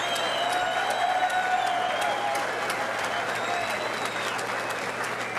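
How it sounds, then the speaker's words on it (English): A crowd at a 1998 ballroom boxing event applauds the two boxers after the final bell, a sustained round of clapping with scattered cheers and whistles that continues steadily throughout. "how about a fine round of applause for Mike McFail to my right and Jon Lockett to my left"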